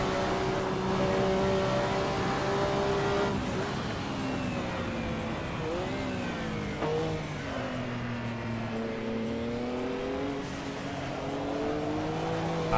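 Race car engines in the Assetto Corsa racing game rev and whine, rising and falling through gear changes as several cars run close together, with a faint tyre squeal, loud and continuous.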